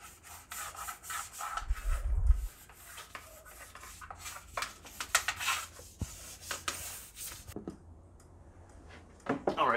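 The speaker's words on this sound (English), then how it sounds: "So we're just gonna brush out the channel." An old toothbrush scrubs a vinyl window channel with warm soapy water, giving quick, close, rhythmic rubbing and scraping strokes in uneven bursts, with a brief low thump partway through.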